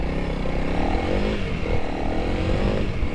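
A 2021 Honda CRF300L motorcycle accelerates steadily, its engine note climbing continuously and loudly close by without a clear pause for gear changes.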